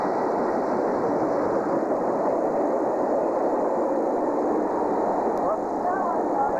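Train at Maisons-Laffitte station, with a constant loud rumble of a passing train close by, steady throughout with faint rail noise and some talk mixed in.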